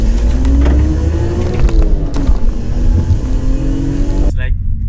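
A BMW M3 E46 drives along with its engine note rising and falling in a loud, raw drone close to the cabin, and someone talks over it.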